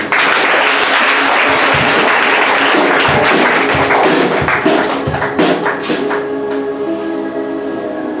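A church congregation at a French-language service applauding together: dense, loud clapping that holds steady, then breaks into scattered claps as it fades out.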